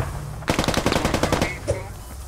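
A rapid burst of machine gun fire in the military shooter game Squad, about a second of close, loud, evenly spaced shots, then a single later report over a low background rumble.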